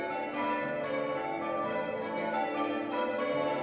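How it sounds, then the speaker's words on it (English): Church bells ringing for a wedding, sustained overlapping metallic tones with strikes repeating every half second or so, steady and moderately loud with no talking. "They've just started the bell ringing."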